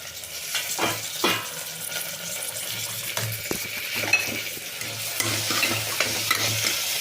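Tomatoes are added to fried onions in a hot pan, giving a steady sizzle with repeated scraping and stirring of a spoon against the pan, loud and close.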